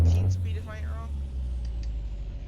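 A 700-horsepower, 13-speed Kenworth W900 truck in American Truck Simulator rumbles low and steady under a heavy load from a rail yard, while someone talks over the engine.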